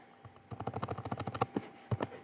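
Code typed on a computer keyboard, a quick close run of about a dozen light plastic key clicks, then a couple of slower final taps, with no talking.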